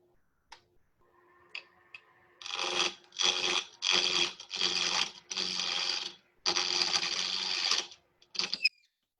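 Wood lathe turning a hollow sphere ornament, a 3/8 inch spindle gouge cutting in several loud, rasping bursts of a second or so each, with short pauses between and a motor hum underneath.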